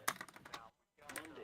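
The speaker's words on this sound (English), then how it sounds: "What are you typing in?" Someone typing on a computer keyboard, a few quick faint key clicks, a short pause, then another brief cluster of taps, close and quiet.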